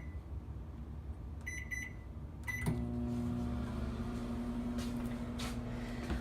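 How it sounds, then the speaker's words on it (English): A microwave oven cooking chicken in a water mixture with onions runs with a steady hum after a few beeps and a door click, continuing evenly to the end without talk. "you're gonna pop the chicken and the water mixture with the onions into the microwave for about 20 minutes"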